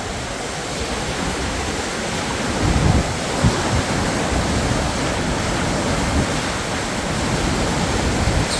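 High water crashing over a dam gate on the Fox River, a loud steady roar of rushing, churning water that fills the scene without pause, with no voices over it.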